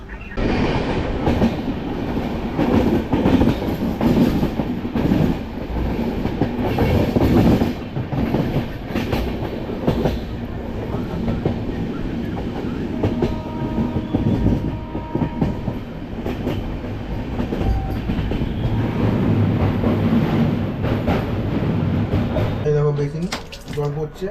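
The Sealdah–Puri Duronto Express rolls along the rails with a steady, loud rumble and rhythmic clickety-clack of wheels, heard from inside the sleeper-class coach, with a brief metallic squeal near the end.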